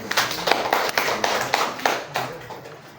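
An audience claps at a talk, with a burst of hand claps that swells, carries on steadily for a few seconds and then thins and fades toward the end.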